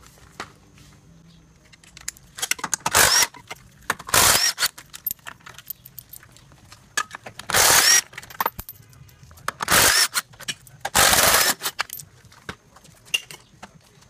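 Ratchet and socket work removing 13mm radiator support bolts on a 2006-2008 Audi A4 2.0T, heard as several bursts of loud metallic clicking and clattering separated by quieter pauses, close up with no talk.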